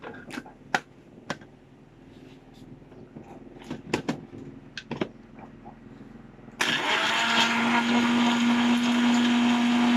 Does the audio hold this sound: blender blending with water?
yes